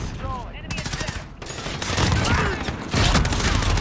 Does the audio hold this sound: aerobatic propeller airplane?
no